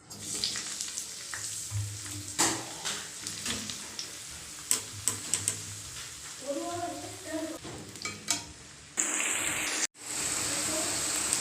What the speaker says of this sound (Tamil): கோவக்காய் நல்லா ஃப்ரை ஆகிடுச்சிங்க எடுத்துக்கலாம்